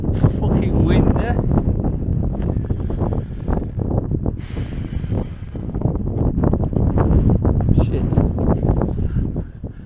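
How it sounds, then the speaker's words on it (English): Strong wind buffeting a microphone outdoors, loud rumbling gusts and rough crackling that fill the whole stretch, with a voice partly underneath. "it's a bit fucking windy"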